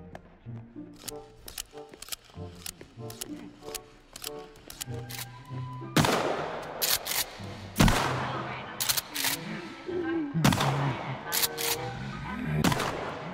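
Shotgun fire in the video game Sons of the Forest: a few loud, sharp blasts spaced several seconds apart, ringing over busy in-game music and clicking effects.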